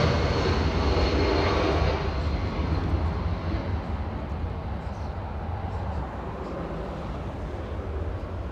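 A large jet roars steadily as it comes in to land at Los Angeles International Airport, a broad, loud rumble heaviest at first that eases slightly while staying continuous.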